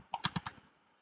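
A short burst of about five quick keystrokes on a computer keyboard, close and crisp, with no talking, typed while writing a prompt in a Google Workspace app.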